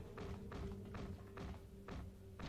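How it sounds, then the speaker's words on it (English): Heavy thuds on a door in the video game Star Wars KOTOR, roughly six dull knocks spaced about half a second apart, loud and near over a low droning hum. "It's like they're pounding on the door."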